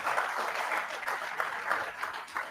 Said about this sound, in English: a round of applause for Boko Abi as she comes once again